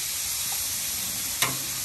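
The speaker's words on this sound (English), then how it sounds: "sis over here is frying up some chicken." Chinese-style chicken frying in oil, a steady close sizzle and hiss with one brief sharp pop near the end.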